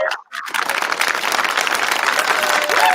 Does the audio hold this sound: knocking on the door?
no